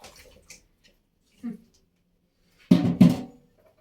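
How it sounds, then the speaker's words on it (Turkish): Running water splashes briefly while something is washed in a home kitchen during cooking, with two louder gushes near the end after a quiet stretch of light handling noises. "Şöyle de yıkayayım."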